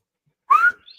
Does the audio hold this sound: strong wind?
no